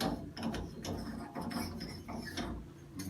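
Chrome escutcheons come off a Price Pfister two-handle shower valve with quiet ratcheting clicks and soft scraping close by, low in level with no talk.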